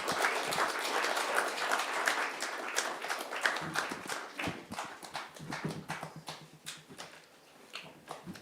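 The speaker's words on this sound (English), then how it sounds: "Thank you very much for the hand clapping and the welcoming." An audience claps at a broadcasting anniversary celebration, a dense run of hand claps that gradually thins and becomes more scattered over several seconds.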